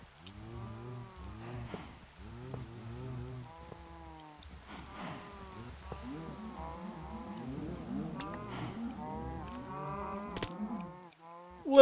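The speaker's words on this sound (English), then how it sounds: "You can hear all the cows in there." Cows in a Minecraft mob spawner moo over and over, many overlapping bovine calls in a dense, continuous chorus that stays steady and fairly loud throughout, with no talking.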